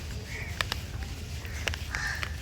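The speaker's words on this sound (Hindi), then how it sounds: "कौओं की आवाज़ सुनाई दे रही है।" Several crows caw in short, sharp bursts against a low background hum, fairly faint and outdoors at dusk, with calls scattered in quick pairs.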